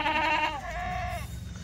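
A pregnant Kathiawari goat bleats close by, one long wavering call that fades into quieter farmyard background, with no talk over it.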